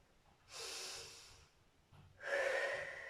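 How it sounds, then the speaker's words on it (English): Two deep breaths during an older adults' metabolic conditioning workout: a long airy inhale followed, after a pause, by a louder, rougher exhale with a slight whistling tone, close to the microphone. "Take deep breath in"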